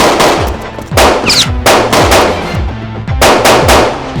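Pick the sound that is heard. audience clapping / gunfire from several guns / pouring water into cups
gunfire from several guns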